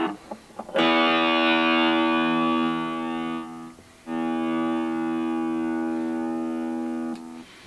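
An electric guitar run through an effects unit into a looper rings out in two long, sustained, distorted notes with a rich buzzing harmonic tone. Each note holds for about three seconds, and a brief gap separates them.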